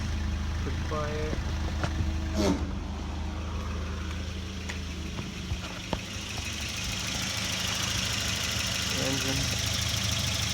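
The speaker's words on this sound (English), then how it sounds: "switch on, pretty quiet" A 1990 Volvo 240DL engine idles smoothly and quietly just after being switched on, a steady low hum with faint ticks and a few brief clicks, heard up close.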